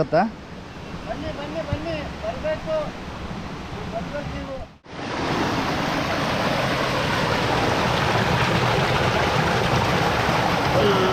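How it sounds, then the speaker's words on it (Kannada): Water rushing along a stream below a waterfall in summer, a loud, steady broadband roar close by, coming in after a few seconds of people talking outdoors. "ನೋಡಿ ಅಲ್ಲೋ ಬಿದ್ದಂಥ ನೀರು ಇಲ್ಲಿ ಬರುತ್ತೆ"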